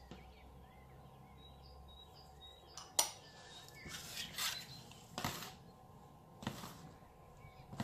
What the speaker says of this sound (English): Now take your flour, mix all the dry ingredients.